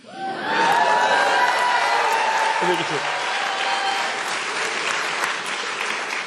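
An audience at a Nevada State of the State speech breaks into loud, sustained applause with cheering and whoops, a dense crowd roar that builds quickly and holds steady before easing slightly.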